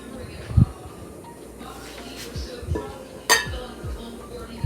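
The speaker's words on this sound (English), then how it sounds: "gonna cut my butter in and my shortening" A utensil scrapes and clinks against a bowl while butter and butter-flavor shortening are cut into buttermilk biscuit dough, a few sharp knocks and rings spaced out over a low background hum.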